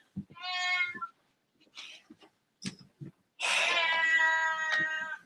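Domestic cats meowing loudly in a room: a drawn-out meow, some scattered short thumps and faint cries, then a long, strained, wailing meow that fills the last two seconds.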